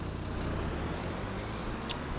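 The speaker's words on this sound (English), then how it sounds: "let's go ahead and jump on in the tractor here" Tractor engine in the video game Farming Simulator 22, a steady low idling rumble heard alone at a moderate level.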